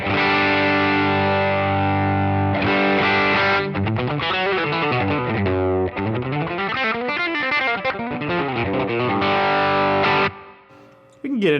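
Heavily distorted electric guitar through a Strymon Deco pedal with the drive cranked, playing loud, fuzzy chords and sliding notes, thick and saturated, then cutting off near the end.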